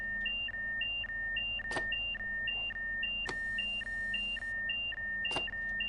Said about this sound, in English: Got this beeping noise and it doesn't tell you what the fucking hell you're supposed to do